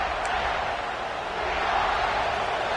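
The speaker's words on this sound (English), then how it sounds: "Listen to this crowd just shaking the girders of this place, trying to help their defense" Stadium crowd roaring loudly during a college football game in the second quarter, a dense, steady wall of noise throughout with a commentator's voice faintly mixed in.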